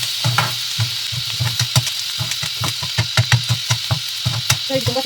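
Turmeric fries in a pan for aloo paratha, with a continuous hiss of oil and a series of rhythmic scraping strokes as the spoon moves through it. The stirring is close and fairly loud.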